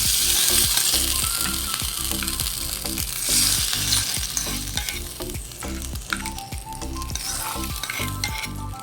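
Hot tempering hits coconut broth (naralache saar) on a switched-off stove, giving a loud close sizzle with repeated stirring scrapes and light utensil clinks that fade slightly as it settles.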